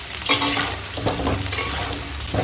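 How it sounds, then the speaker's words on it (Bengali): Potatoes fry in oil for a mutton curry, with a dense, close sizzle broken by a few stirring scrapes and clinks over a couple of seconds. "এখন আলুটা ভাজা হয়ে গেছে"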